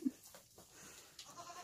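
Goats kept outdoors during a Colorado winter storm bleat faintly in a brief call, a distant, quiet sound against soft background noise.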